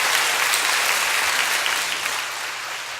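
Applause from a church congregation, a dense sustained patter of many hands clapping that fills the room and tapers slightly toward the end, with no speech over it.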